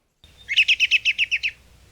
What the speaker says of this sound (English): black and white warbler, squeaky wheel